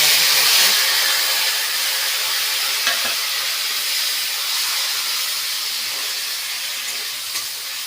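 Bay leaves, dried red chillies and cumin hit hot oil as the tempering for ghugni, giving a loud, steady, hissing sizzle with a couple of faint clinks.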